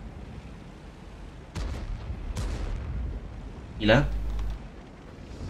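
Tank cannon shots in the World of Tanks video game, two sharp booming blasts followed by a louder rumbling impact, with someone speaking Polish over the game sounds.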